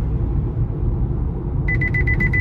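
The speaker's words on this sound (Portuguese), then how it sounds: "E ele faz esse bip e avisando o painel também." Repeated electronic warning beep from a Chevrolet Tracker Premier 1.2 turbo, a steady series of short tones starting partway through over constant low road and engine rumble inside the moving car.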